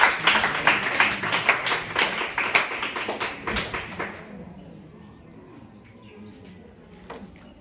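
Audience clapping for a school team at a science and mathematics quiz final, a dense burst of hand claps for about four seconds that then thins into scattered taps and quiet room noise.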